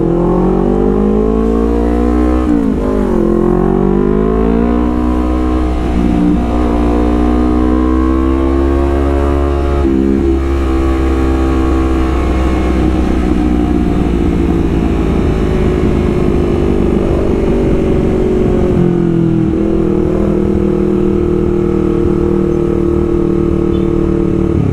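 Sustained ride on a Honda CBR250RR sport bike, engine loud and near, revs climbing and dropping with shifts and a long steady high-revving cruise, no talking.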